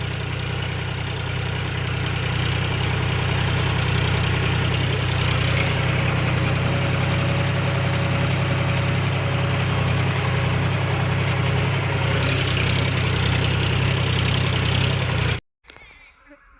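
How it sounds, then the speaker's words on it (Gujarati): A tractor engine running in a farm field, a loud, steady low rumble with constant vibration that holds for about fifteen seconds before cutting off abruptly. "આપણે ટ્રેક્ટર ચાલુ કરી દીધું છે"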